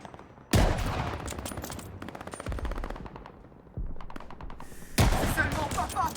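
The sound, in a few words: gunfire from above in Call of Duty Vanguard video game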